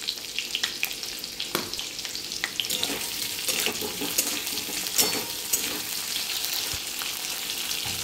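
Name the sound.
asafoetida (hing) sizzling in hot oil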